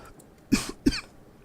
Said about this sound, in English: I'm so sorry that I'm coughing.